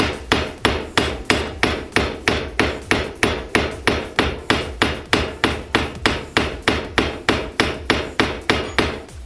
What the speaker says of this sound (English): I use the flat side of the planishing hammer, and I hit it head on as opposed to at an angle.